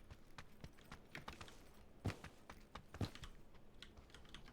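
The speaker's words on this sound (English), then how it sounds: "I hear footsteps." Footsteps in PUBG inside a parking-deck-like building: a soft, quiet run of irregular taps with two heavier thuds standing out, no voices over them.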